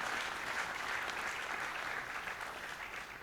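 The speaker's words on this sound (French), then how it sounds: "Et je vous demande d'applaudir pour cette bourse qui est importante." An audience at an African presidents' debate on development and free trade claps steadily, a faint, dense patter of many hands that holds for a few seconds, then slowly thins out.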